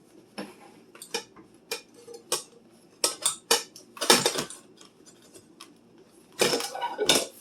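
A bundt pan holding a blueberry coffee cake is handled and flipped over, giving a run of sharp metallic clanks, taps and scrapes in irregular bursts, close and fairly loud, with a louder cluster near the end.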